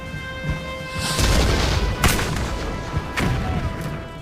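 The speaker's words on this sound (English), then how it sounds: "Bursts of projectiles and Congreve rockets cause confusion in the American ranks." An artillery barrage with bursting projectiles and Congreve rockets at Baltimore in the War of 1812, loud booms and cracks over a constant rumbling roar, with sharp blasts standing out from the dense background.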